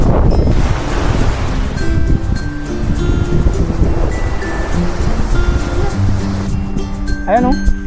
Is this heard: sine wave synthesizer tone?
no